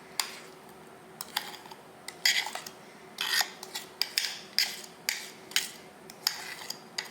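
Banana bread batter for a chocolate chip loaf is mixed in a bowl, giving a steady rhythm of scraping, clinking strokes about twice a second. The strokes are close and alone, with no talking.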